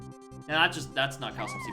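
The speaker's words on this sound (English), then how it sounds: "that's a cat" A cat meows from a video game, a couple of rising, whiny calls rising above steady background game music while people talk over it.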